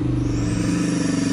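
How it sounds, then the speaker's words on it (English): Bugatti Chiron Super Sport at full-throttle launch-control acceleration, a loud, steady, deep engine roar with dense low rumble and rising harmonics, continuous through the short burst with no talk. "press launch control, floor the throttle"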